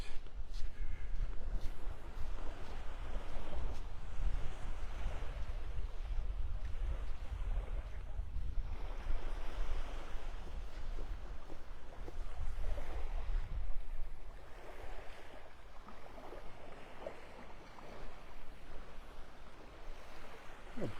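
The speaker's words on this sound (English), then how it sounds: "That breeze is picking up. Coming out of the east." An east breeze blows across a beach in North Naples, Florida, on a morning walk. The steady wind rumble blends with the soft, continuous wash of waves, and no one speaks.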